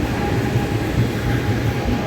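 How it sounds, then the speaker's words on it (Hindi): Passenger express train hauled by a WAP-7 electric locomotive from the Ludhiana shed, heard as a loud, steady rolling rumble with faint rhythmic wheel beats. "वो वेब 7 लुधियाना का लोकोमोटिव है भाई ये"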